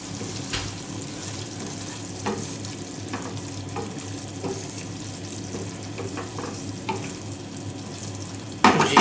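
A spoon scrapes and stirs green chillies stuffed with spiced keema and garam masala in a sizzling pan, with soft frying hiss and intermittent clinks, ending in a louder clatter.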